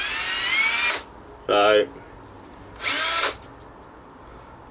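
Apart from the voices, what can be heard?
power drill running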